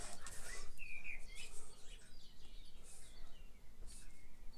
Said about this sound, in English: how beautifully they chirp here in front of my window